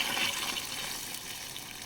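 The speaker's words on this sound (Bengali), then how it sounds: "এখানে মাংস সিদ্ধ করার সময় যে জলটা ছিল সেটা আমি ঢেলে দিলাম।" Boiling liquid left from cooking mutton is poured into a pot of mutton curry with potatoes, a steady close splashing gush that fades slightly toward the end, with no one talking.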